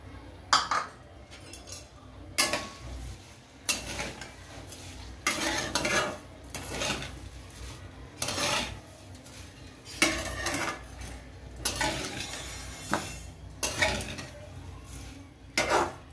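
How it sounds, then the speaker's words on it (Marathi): Vermicelli shallow-frying in ghee in a pan, stirred with a metal utensil that gives steady scraping and clinking against the pan, close and fairly loud, with a faint sizzle beneath and no talk. "थोडंसं याचा कलर चेंज होईपर्यंत शेवयांचं 2 ते 3 मिनिटं शॅलो फ्राय करून घ्यायचं"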